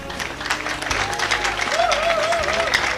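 Audience at a university convocation ceremony applauding Peter Obi, a steady wash of clapping from a large crowd, with a voice speaking over part of it.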